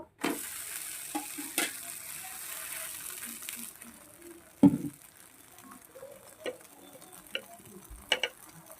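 Pieces of stingray fish frying in a small amount of oil in a pan, a soft steady sizzle with occasional clinks and scrapes of a utensil as the fish is turned.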